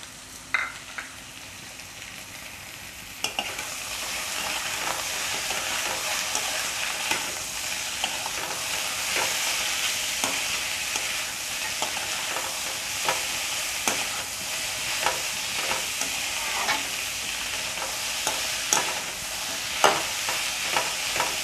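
Bottle gourd skin fries steadily in a pan over a low gas flame, a dense continuous sizzle with scattered clicks and scrapes from stirring, close and even throughout, with no talk.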